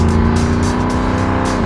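A 2015–2017 Ford Mustang GT fitted with a Borla exhaust revs loudly and steadily, its deep V8 burble close and continuous, with the pitch holding and dipping slightly near the end.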